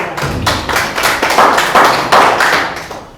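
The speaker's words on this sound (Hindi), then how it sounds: "एक बार जोरदार तालियां हो जाए अपने पिता के नाम" Audience applause at a Hindi poetry recital, a dense wash of many hands clapping steadily and loudly for about three seconds without speech.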